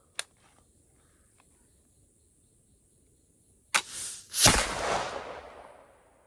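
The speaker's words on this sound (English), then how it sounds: "the rifle went off that time, but there was an incredible hang fire" Muzzleloading rifle loaded with Pyrodex going off after a long hang fire: a faint click, a pause of several seconds, then a brief fizz and a loud whooshing discharge that trails off.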